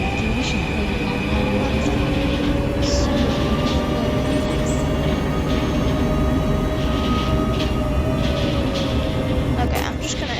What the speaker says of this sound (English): I'm just gonna take this train.